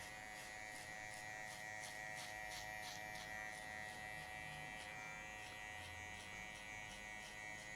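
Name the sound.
electric hair clipper cutting hair with number 2 guard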